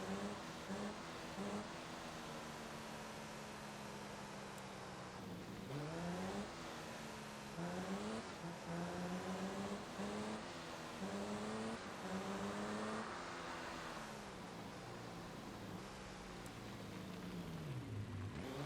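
A car driving in the mobile game Car Parking Multiplayer, with a steady engine drone that rises and falls through repeated gear shifts and revs, loud and continuous for the whole stretch, with no talk.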